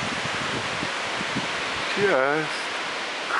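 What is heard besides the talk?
strong wind on a mountain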